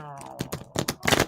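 Angel Tarot cards shuffled by hand, giving a quick run of crisp, papery riffling bursts that grow busier toward the end, with a short bit of voice at the start.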